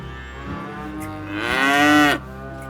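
A calf moos in a dairy farm pen, one drawn-out low call that swells and then cuts off, close and clear, with faint barn sounds before it.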